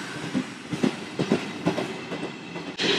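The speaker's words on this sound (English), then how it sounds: "As the train's leaving, so am I." An older train pulls out of a station in Italy, with rolling wheel clatter and rumble in irregular bursts. Near and moderately loud, it ends in a sustained broadband hiss.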